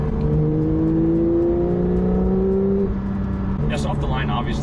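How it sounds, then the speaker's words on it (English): Sports car in a video game revving as it accelerates off the line, a rising engine whine climbing steadily in pitch, with people talking over it toward the end. "Off the line, obviously, you're feeling a little bit more, but once the car gets on that, the smooth acceleration that you're feeling in this car"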